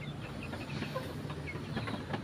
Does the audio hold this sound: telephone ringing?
no